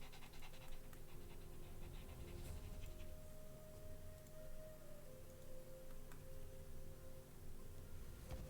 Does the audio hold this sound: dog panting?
yes